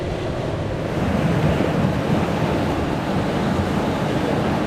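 Sea waves and wind on a bay where someone is lure fishing for bass, a steady loud roar of surf and choppy water with gusts buffeting the microphone and no voices.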